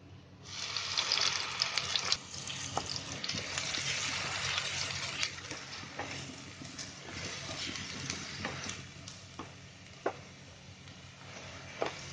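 Ground onion gravy paste for a white chicken curry sizzles in a hot pan over a high gas flame, a steady loud hiss of frying with occasional small pops and spatters throughout.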